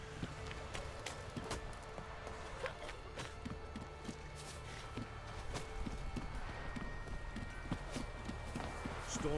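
Horse hooves clip-clopping in The Witcher 3, a steady run of close, regular hoof strikes over a busy background of game ambience and other noise.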